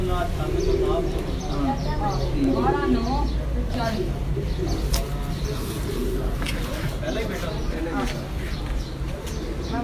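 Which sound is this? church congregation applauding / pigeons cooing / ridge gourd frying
pigeons cooing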